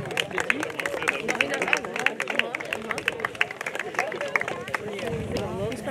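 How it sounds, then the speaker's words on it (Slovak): A crowd applauds the winners at a Slovak fitness event's award ceremony, with steady, dense clapping throughout the whole stretch, fairly close, mixed with some murmuring and chatter from the audience. "Jeden veľký potlesk pre nich ešte"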